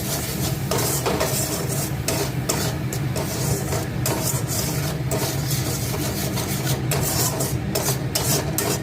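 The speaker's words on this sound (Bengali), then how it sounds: "জল দিয়ে একটু নাড়াচাড়া দেবো, মশলাটা কষানো অবধি ওয়েট করবো।" Spiced masala with a splash of water being stirred in a pan for paneer and cauliflower curry, a steady close scraping and rubbing that runs continuously and fills the whole stretch without any talk.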